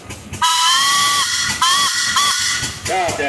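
Steam traction engine whistle at an antique tractor and machinery parade, sounding in several loud, sustained shrill blasts with brief gaps between them, the last one wavering, over a hissing steam background.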